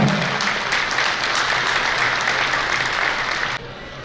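An audience at a community gathering claps loudly and steadily for a few seconds, then the applause cuts off abruptly.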